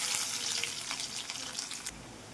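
Cumin, curry leaves and finely chopped garlic fry in hot oil, a close, busy crackling sizzle with quick pops that eases off near the end.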